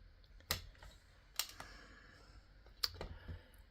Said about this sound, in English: Just going to cut it about right here.